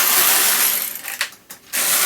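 A knitting machine carriage slides across the needle bed in a single pass, with a close, steady mechanical rasping and ratcheting that breaks into a few brief clicks near the end.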